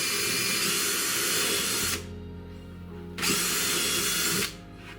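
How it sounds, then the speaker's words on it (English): A power drill whines loudly as it bores through wood, stops briefly, then runs again for a second burst before cutting off. "hold the drill up nice and square"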